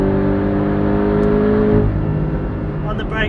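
A Porsche 718 Cayman GTS engine droning loudly from behind the cabin while driving, a sustained harmonic tone that holds steady then drops in pitch as the throttle eases, with road noise underneath.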